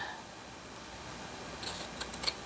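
Regular scissors snip through the frayed edges of fabric scraps for a junk journal, giving a few faint, quick cuts clustered near the end of an otherwise quiet stretch.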